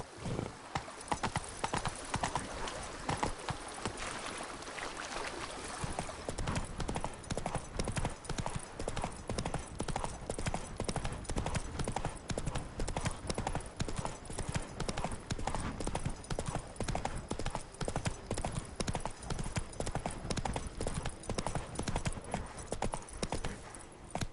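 Roach, a horse in The Witcher 3 video game, trotting with steady rhythmic clip-clop hoofbeats and an occasional whinny, close and continuous throughout, with a voice speaking over the hooves.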